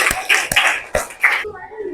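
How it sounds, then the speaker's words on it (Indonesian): Brief classroom applause, a handful of close, sharp claps over under two seconds that fade into quiet murmuring, likely with a voice speaking faintly beneath. "kita berikan dulu aplaus untuk semuanya"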